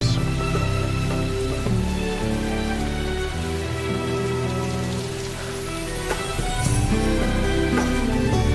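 Steady rain falls outdoors, a dense, even hiss of drops spread across the whole scene. It stays constant for over eight seconds, with a faint low rumble underneath.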